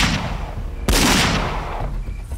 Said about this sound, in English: Then he fired two more times.